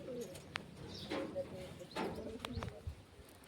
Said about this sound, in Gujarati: આપણે કબૂતર જોઈએ એ પ્રમાણે આવી રીતના કંઈક કબૂતર છે